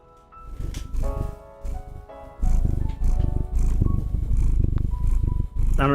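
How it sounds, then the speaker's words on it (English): A pet orange cat purrs close to the microphone in a steady, pulsing rumble of rhythmic breaths, loud and near, with faint background tones and no one speaking. "Can you hear him purring?"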